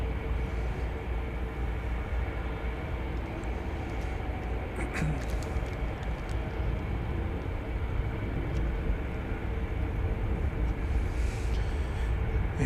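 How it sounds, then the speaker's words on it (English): A jet engine roars steadily at DFW Airport from an Airbus A350-1000, a broad continuous rumble heard from a distance with no talking. "See, it's an Airbus A350 1000."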